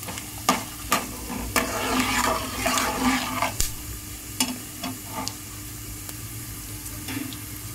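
Peanuts frying in a pan for rice ravva upma, a soft sizzle broken by several sharp stirring clicks and scrapes, close by with no talk.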